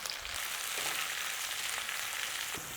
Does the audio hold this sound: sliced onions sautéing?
yes